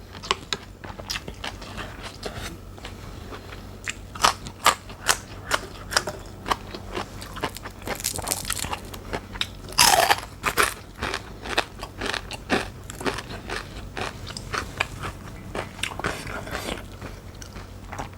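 Crisp bites and crunching of home-pickled baby radish eaten close up, a steady run of sharp crackly chews with one louder crunch midway, over a low background hum.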